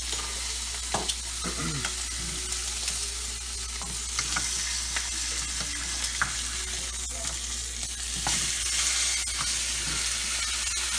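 Pastured steaks frying in a pan while being basted, a steady loud sizzle with occasional spoon scrapes and spatters over a constant low hum.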